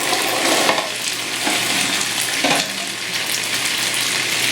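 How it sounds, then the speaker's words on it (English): Fettuccine with chopped scallions, parsley and chickpeas stirred in a hot skillet, giving a steady sizzle with soft scraping stir strokes, close and continuous with no talking. "this all just needs to be stirred in and coated"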